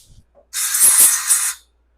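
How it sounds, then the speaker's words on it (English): A burst of compressed air hisses into the small orifice of a 4L60E transmission from a 2004 Chevy Suburban 5.3L, a loud, steady spray of about a second that starts and stops abruptly. "Let me blow some air in there so you can really see it."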